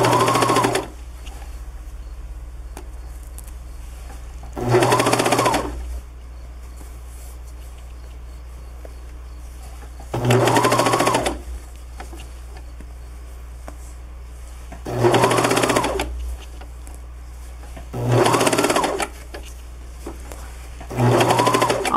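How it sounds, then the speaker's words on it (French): A sewing machine stitching a hoodie cuff, close and loud in six separate bursts of rapid whirring, each lasting about a second, separated by quiet pauses. "on coud pendant 1 pouce sur le départ, sans couper le fil."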